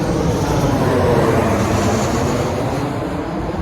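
A Southwest airliner comes in to land near Kirtland Air Force Base, its engines giving a loud, steady roar that swells slightly and then eases as it passes.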